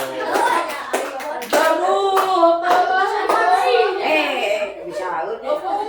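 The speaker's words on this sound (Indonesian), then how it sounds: "Kasih tepuk tangan untuk kelompok 1." Classroom students clapping for a group of classmates, sharp hand claps mixed with excited children's voices and chatter throughout.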